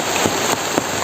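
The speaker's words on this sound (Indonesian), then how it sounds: "malah di sini hujan sangat lebat" Heavy rain pours steadily on a hillside slope, a dense continuous hiss with a few louder drops standing out, close and loud with no voices.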